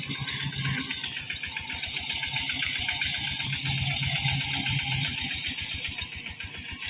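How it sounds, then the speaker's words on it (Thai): A walking-tractor rice harvester's small engine runs steadily in a paddy field, a close, rhythmic chugging of evenly spaced pulses with a mechanical whine above it, and no talking. "อันนี้เป็นรถเกี่ยวรถไถเดินตามเด้อพี่น้อง"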